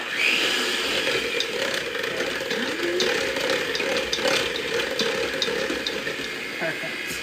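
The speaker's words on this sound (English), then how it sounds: "So we have our 2 eggs, and I'm gonna give this a quick little whisk." Two eggs are whisked briskly in a bowl, producing a steady run of quick scraping, rattling strokes that continues evenly throughout at close range.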